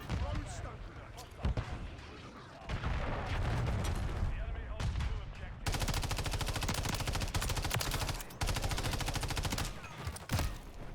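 Sustained bursts of gunfire and explosions in the video game Lethal Company, dense and loud throughout, with voices talking over the shooting.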